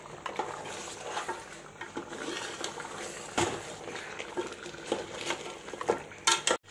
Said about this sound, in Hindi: 2 मिनट हम मसाले में पायों को भून लेते हैं